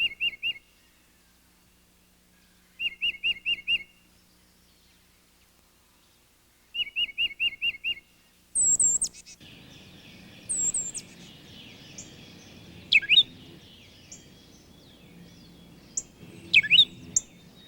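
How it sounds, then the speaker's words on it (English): A tufted titmouse calls in a backyard, giving repeated quick, clear whistled phrases of four or five notes, separated by pauses, then several sharper chirps and calls from other birds nearby. "there will also be tufted titmice, a common and delightful bird of the backyard"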